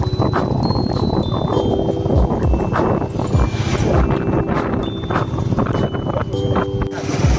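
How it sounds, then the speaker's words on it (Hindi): Two people riding a motorbike along a hilly road, with a steady low engine rumble and heavy buffeting wind noise on the microphone throughout, plus faint passing thumps. "दोनों बाइक पे चल रहे हैं"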